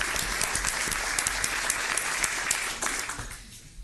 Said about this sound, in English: everyone would just join me in giving Jared a warm welcome and a round of applause.